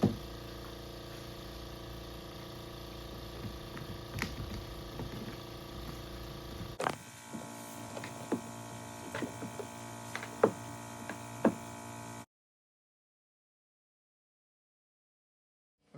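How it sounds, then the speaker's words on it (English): A vacuum pump runs steadily while a skimmer mold is vacuum-bagged, giving a constant low mechanical hum with a few faint clicks and knocks before cutting off into silence. "This can run all night and it won't overheat. That's just the kind of pump it is."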